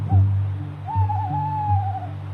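Tawny owls calling outside at night, a clear wavering hoot rising and holding, with a short earlier call and a low rhythmic droning underneath, fairly close and alone without speech.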